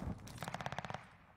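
Full-auto fire from an STG assault rifle in the Warzone video game: a quick rhythmic burst of about nine shots, moderately distant and fairly quiet, fading into a short tail.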